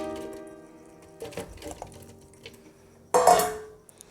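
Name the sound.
cut watermelon pieces dropped into juicer jar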